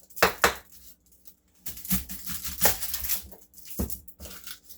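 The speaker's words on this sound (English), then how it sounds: "first we'll take the onion, cut on both sides" A knife slices through an onion on a cutting board in a home kitchen, giving a handful of crisp, close crunching cuts separated by brief pauses, with no talking.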